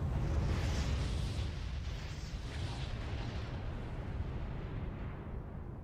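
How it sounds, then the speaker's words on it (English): A bomb explosion in a Sonic animation rumbles as one sustained, dense roar lasting several seconds, loud and booming throughout with no talking over it. "That was quite the bomb, Shadow."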